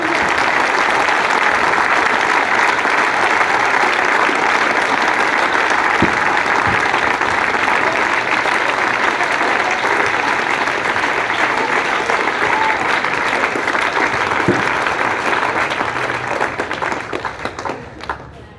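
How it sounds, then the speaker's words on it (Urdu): Students in a school give a teacher a loud, sustained round of applause in welcome. The dense clapping runs for about eighteen seconds before fading slightly at the close. "آپ لوگوں نے زوردار تالیوں میں استقبال کرنا ہے"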